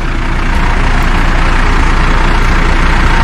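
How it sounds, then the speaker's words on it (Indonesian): Bus engine idling before departure on a Jakarta to Padang route, a loud, steady, deep diesel rumble close by with no change in pace, running alone without talking. "Ya, mesin sudah nyala."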